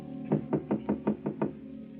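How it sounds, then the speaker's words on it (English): Seven evenly spaced knocks land on an apartment door as a radio drama sound effect, crisp and fairly close, heard alone with no voices. "a knock at Gloria's apartment door"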